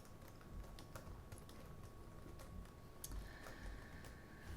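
Close, quiet keyboard typing during an office consultation in a real estate agent role play, with a steady run of soft irregular clicks and no talking.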